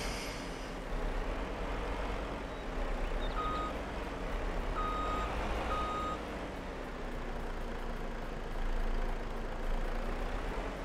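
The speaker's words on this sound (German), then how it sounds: "Jetzt vielleicht mal rückwärts fahren" A vehicle reverse alarm beeps in Farming Simulator 22: steady repeated tones over a constant engine drone, fairly close and clear, with no talking.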